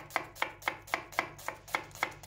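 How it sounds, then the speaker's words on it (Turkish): A knife chops medium onions finely on a cutting board, about nine crisp, evenly spaced strikes in a steady rhythm, close and clear with no talking. "3 adet orta boy soğanımızı küçük küçük doğruyoruz."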